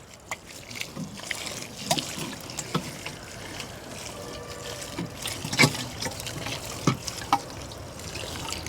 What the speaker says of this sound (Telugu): పోసి నీళ్ళు పోస్తున్నా.